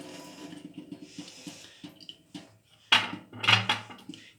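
A peeled carrot is rinsed under running tap water for red lentil soup, with close clattering knocks and splashes that grow louder toward the end; no one speaks.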